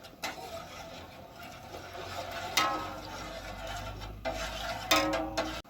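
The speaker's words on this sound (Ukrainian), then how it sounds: "гарно розмішуємо, щоб цукор і сіль розтаяла" A spoon stirs a sugar and salt marinade in a pot, giving quiet repeated scraping and swirling with a few sharper clinks against the metal.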